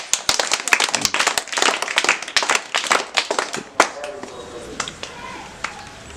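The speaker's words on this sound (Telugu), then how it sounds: "Shahjahan very good claps" A group of schoolchildren claps rapidly and unevenly for a few seconds in a classroom quiz, the claps thinning out into scattered taps while voices talk nearby.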